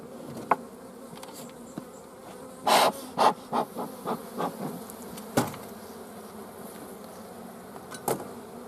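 Honey bees buzz around an open backyard hive that holds only a few frames of bees. Faint buzzing runs under a string of short, louder passes and bumps close to the microphone.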